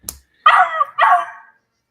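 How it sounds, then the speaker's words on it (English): Two short, close barks come one after the other, preceded by a faint click. "was that a dog?"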